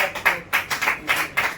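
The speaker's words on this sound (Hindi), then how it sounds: "जोरदार ताली।" A handful of sharp hand claps in steady bursts from an audience at a Safe Shop direct-selling network marketing training session, close and fairly loud, with brief gaps between the claps.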